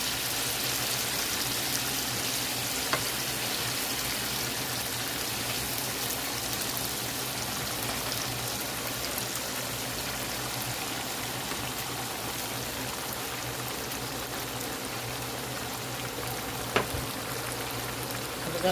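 Salisbury steaks fry in a large skillet, a dense, steady sizzle and crackle filling the whole stretch with only a couple of faint clicks.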